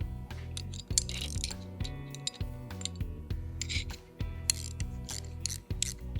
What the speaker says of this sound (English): The 5/32 Allen key on the shoulder bolt and a 1/2-inch wrench on the nut.